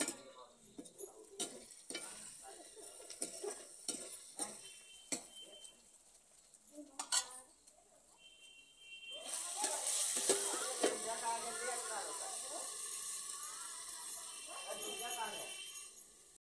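Onion, ginger, chili and garlic frying in a pot in a home kitchen: scattered clinks and stirring knocks first, then a loud, steady sizzle that fills the second half.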